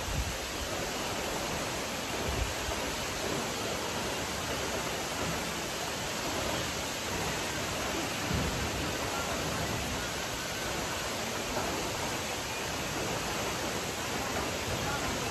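Wli Waterfalls, the highest waterfall in West Africa, pours down in a steady, dense rush of falling water, constant and enveloping without breaks, heard from nearby.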